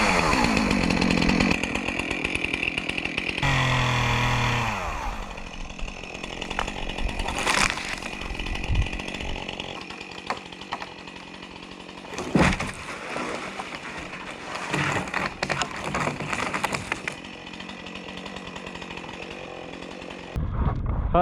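A pull-start chainsaw engine sputters and then runs with a loud, steady buzzing drone. The revs rise and fall, with a few sharp bursts near the operator, and no talk is heard.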